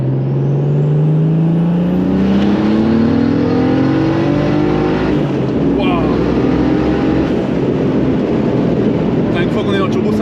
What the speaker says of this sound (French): On va se faire un petit départ en troisième, donc très longue, là on est à 1500 tours minute.